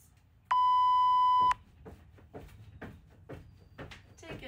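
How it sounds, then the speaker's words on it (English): A workout timer lets out one long, loud steady beep lasting about a second at the start, followed by a quieter stretch of soft thumps and rustling movement. "I'm going to put the timer on."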